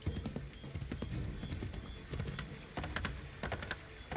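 Horse hooves clop in the video game Assassin's Creed 3, a close, fairly quick and uneven run of hoof beats over a low ambient bed, with no one speaking.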